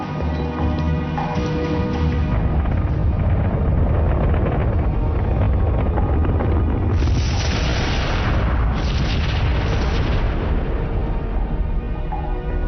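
Heavy, continuous explosion rumble from meteors being destroyed in a disaster action film, loud and dense throughout, with roaring bursts swelling near the end.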